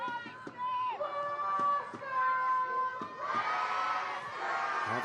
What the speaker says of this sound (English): the crowd finding their voice